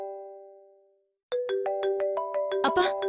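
A phone ringtone signals an incoming call: a sustained tone fades out, then a rising sequence of bright, rhythmic electronic notes plays loudly and close.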